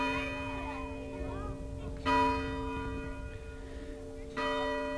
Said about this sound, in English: The sound of the meeting house bell, summoning the villagers to services on a Thanksgiving morning more than 150 years ago